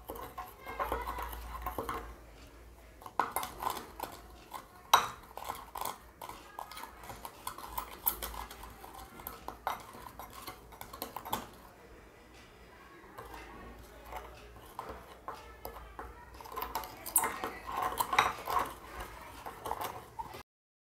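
Coarse Streax Ultralights hair highlighting powder is stirred with developer in a bowl, giving quiet, irregular scraping and light clinks that come in short bursts over about twenty seconds.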